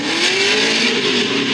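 Loud, continuous engine revving at high RPM from a car making a spin-out run at Holley LSFest, a steady roaring drone with rising pitch, up close with no talk.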